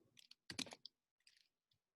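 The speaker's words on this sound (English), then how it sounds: "I hear typing, so more stuff." Someone types on a computer keyboard during a quiet online discussion, a few faint scattered clusters of key clicks with short gaps and no voices.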